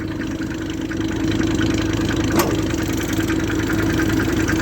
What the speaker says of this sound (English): I got the tractor started and the PTO's running.